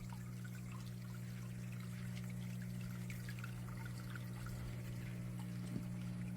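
Water pours softly onto mango seeds in a garden setting, a faint, continuous trickle over a steady low hum from nearby aquaponics equipment.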